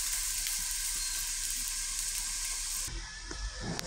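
Meat frying under a lid in a covered pan gives a steady, close hiss and sizzle that runs unbroken, thinning slightly near the end with a few soft pops.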